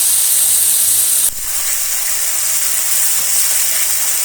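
Tomatoes and green chillies cook in a pan for a kaleji karahi, giving a loud, steady sizzling hiss that barely changes except for a brief dip partway through.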